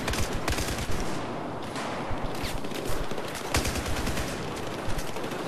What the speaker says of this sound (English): Looks like I'm about to blind fire